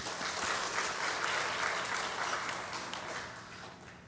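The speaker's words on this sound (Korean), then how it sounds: "박수하겠습니다." Inside a church, the congregation breaks into applause, a broad steady wash of clapping that holds and then slowly fades toward the end.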